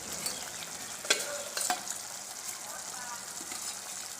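Fish goes into a sour thekera curry simmering in a pan, followed by quiet sizzling and stirring with a few sharper scrapes and splashes, fairly faint and close.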